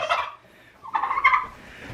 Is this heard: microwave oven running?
no